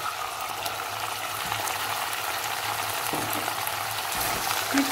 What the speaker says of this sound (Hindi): अब इसके अंदर डाल देंगे कटे हुए टमाटर